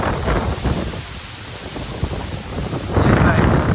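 Thunder rumbles under steady heavy rain and gusting wind as Hurricane Beryl's storm begins in Jamaica, with deep low booms swelling at the start and again near the end.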